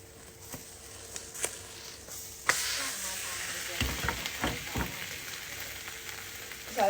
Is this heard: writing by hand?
no